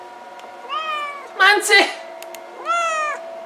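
A cat stuck on top of a fridge gives two drawn-out, plaintive meows, loud and close, while a man calls out sharply between them.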